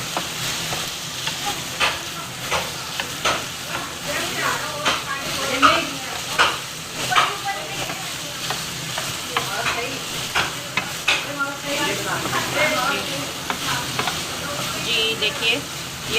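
Spiced liver (tawa kaleji) sizzling on a hot griddle while being stirred, with steady frying crackle and repeated scraping clinks of the spatula close by, alone without talk.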